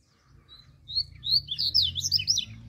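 A coleiro (papa-capim) songbird sings a run of quick, high whistled chirps, building in pace and density, fairly close over a faint low background murmur.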